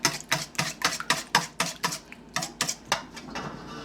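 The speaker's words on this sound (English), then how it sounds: "So I just kind of beat my eggs" Eggs beaten in a bowl for cornbread: a fast, even run of close clicking whisks and utensil taps against the bowl, about a dozen strokes, with no talk.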